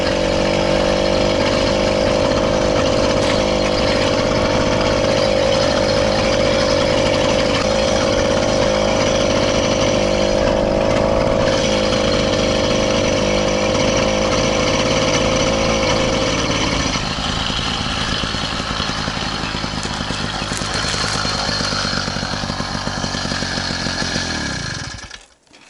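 A small motor engine runs loud and close without a break for the whole stretch, a buzzing mid-pitched drone whose tone shifts lower partway through.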